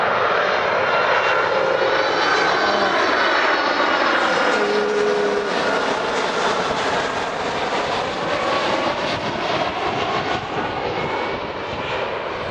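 An airplane passing low overhead at Jonanjima island while plane spotting at its northern end: a loud, continuous jet roar that swells and holds for over twelve seconds, with no talking.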